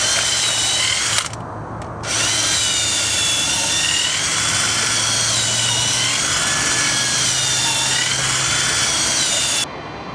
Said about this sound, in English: Now I'm just going to drill 3